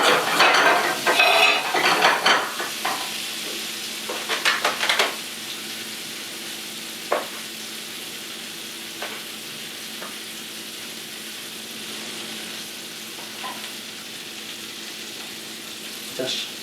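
Butter and olive oil fry for crab cakes: a soft, steady sizzle follows an opening burst of stirring and clattering pan noise, with occasional light clinks.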